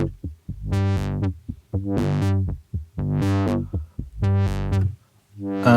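Bright, buzzy Studiologic Sledge synthesizer chords pulse in a steady rhythm of repeated swelling notes, loud and alone with no talking.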